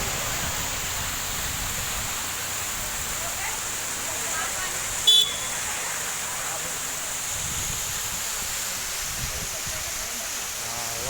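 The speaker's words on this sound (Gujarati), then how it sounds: "આ પાણી ઉપરથી પડી અને અહીંયાથી બહાર જાય" Water pouring down from above beside the Sankat Mochan Hanuman temple and a Shiva temple, a steady close rushing wash with one brief sharp knock midway.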